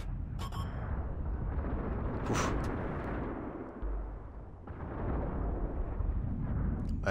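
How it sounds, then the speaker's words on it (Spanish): A deep, booming tank cannon blast in World of Tanks rumbles through dense game noise, with a sharp burst near the middle and a short grunt from a player. "Disparo listo."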